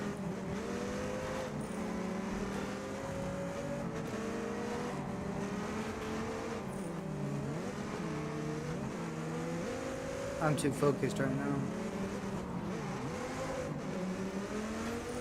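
Race car engines in the racing game Test Drive Unlimited Solar Crown, a steady revving drone that rises and falls through gear changes and runs continuously under a speaking voice, with a short clattering burst midway.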